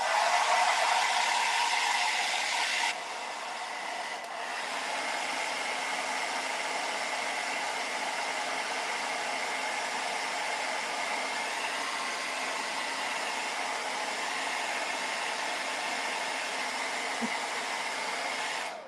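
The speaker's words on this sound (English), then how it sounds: "So let me get my hair dryer out. We're going to dry this" A hair dryer drying paint roars close by with a steady, broadband whoosh, dropping slightly in pitch after a few seconds and then running on evenly.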